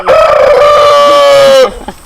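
A rooster at an animal rescue lets out one loud, close crow held for well over a second, then it cuts off into a brief quiet with faint clucking from chickens.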